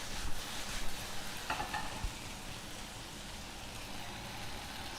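Chicken with cola and apple cooking in a pan, a soft continuous bubbling and sizzling hiss, faint and steady, with a brief clink of a utensil partway through.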